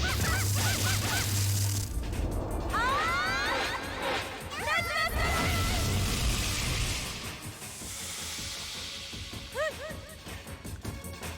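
Goose-like honks and squawks from a Geese attack in the video game Legend of Legaia, several rising calls in quick bursts over dense, noisy battle effects.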